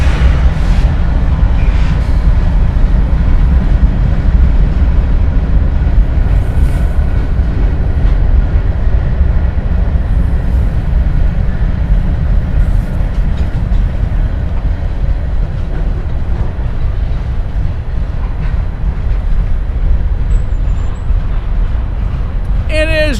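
Norfolk Southern NS34 freight train with Canadian locomotives, a geometry unit and a Herzog car carrying a high rail truck rolls past at night, a loud, steady rumble with wheel clatter throughout.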